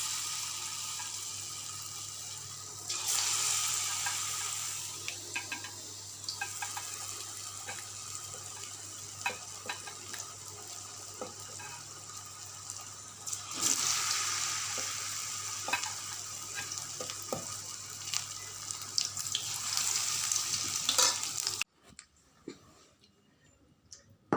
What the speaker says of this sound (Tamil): ஒவ்வொரு பாவக்காவை போட்டு நம்ம எண்ணெயில் வறுத்து எடுத்தால்